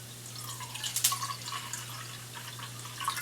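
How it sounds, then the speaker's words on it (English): Water runs from a kitchen sink faucet through a Brita filter, with a light trickling, dripping patter over a low steady hum and a few louder splashes, no speech. "So here we are over here at my sink. Let's get some water."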